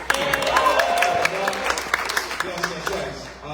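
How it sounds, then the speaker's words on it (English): An audience at a poetry book launch claps for the DJ, a busy patter of hands mixed with crowd murmur and voices, gradually thinning toward the end. "Clap it up again for our DJ."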